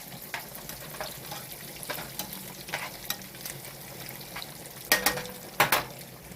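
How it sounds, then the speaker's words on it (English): Bacon frying in a big pan for pasta carbonara, a steady sizzle broken by stirring scrapes and a few sharper utensil knocks toward the end, close and with no one speaking. "So you want to just keep cooking the bacon down."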